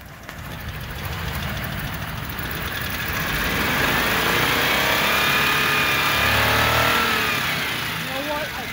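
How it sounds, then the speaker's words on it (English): A Ford F150 engine with a stock cam revs loudly during a neutral drop session, a sustained roaring rise that climbs and holds near the top before easing, heard alone and up close. "Stuntman, rev this thing up."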